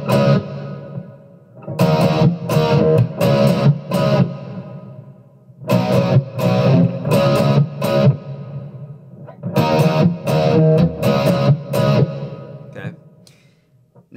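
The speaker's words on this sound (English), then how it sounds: "you just need some overdrive. You can hear that I've got some nice reverb on there." Distorted electric guitar with overdrive and reverb plays muted verse chords in repeating chunky phrases, with a light reverb tail between bursts, close and loud.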